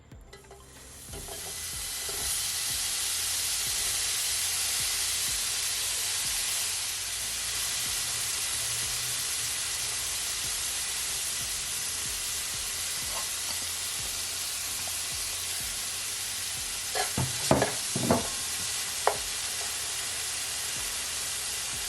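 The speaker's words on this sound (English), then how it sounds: "I'm just gonna allow the oil to come forth from the bacon" Bacon frying in a pan with oil, as the base for fried cabbage, gives a loud, constant hiss and crackle that continues throughout, with a few sharper pops and clinks near the end.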